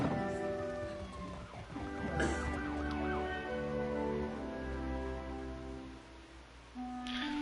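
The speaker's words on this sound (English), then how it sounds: "Oh no, there's just sirens out here." Faint sirens wail in the distance outside, rising and falling tones layered over quiet background noise, with no talking.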